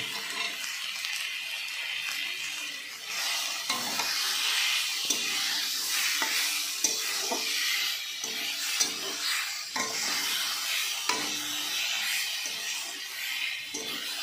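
Taro stem curry with chickpeas and grated coconut is stirred in a pan, giving a soft continuous hiss and sizzle broken by irregular scraping strokes, fairly close and alone.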